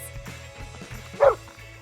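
A single short bark from a dog, close by, rising briefly above a low steady background hum.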